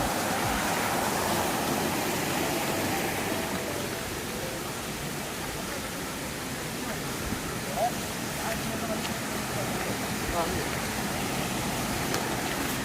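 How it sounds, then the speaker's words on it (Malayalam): A steady, broadband rush of falling water, loud and continuous throughout, like standing close to a waterfall. "വെള്ളച്ചാട്ടം"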